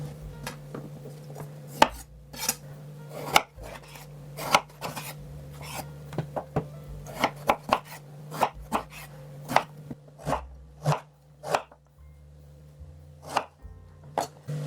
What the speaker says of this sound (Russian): Порежу их средними брусочками.